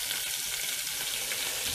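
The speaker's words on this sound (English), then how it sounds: "Now we just let our garlic and black pepper have a little sizzle" Garlic and black pepper sizzling in a saucepan, a steady bright hiss of frying that holds at an even level from start to finish with no voices.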